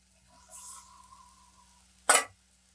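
Masala-marinated mushrooms hit hot oil in a pan, giving a brief sizzling burst with a short sharp surge of frying noise near the end, after quieter kitchen sounds.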